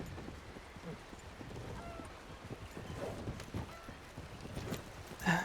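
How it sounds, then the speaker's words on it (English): Horse hooves clip-clop in the Red Dead Redemption 2 roleplay game, a steady rhythmic trot of soft thuds at moderate distance, fairly quiet over faint ambient background without talk. "You can ride on the back of my horse."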